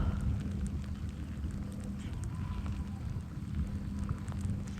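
Rain falling on a cold, windy day at Clapboard Creek, a steady hiss with scattered droplet ticks and a low wind rumble underneath, continuous and fairly faint, with no talking.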